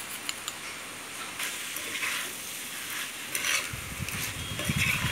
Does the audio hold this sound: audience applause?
no